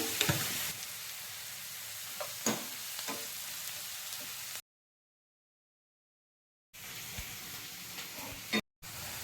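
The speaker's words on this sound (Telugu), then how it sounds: "అందుకే ఎప్పుడు కూడా గోల్డెన్ కలర్లోకి వచ్చినంత వరకు వేయించుకోవాలి" Onions frying with salt in a pan for masala egg curry, a continuous crackling sizzle with occasional stirring taps, broken by a stretch of silence before the sizzle resumes.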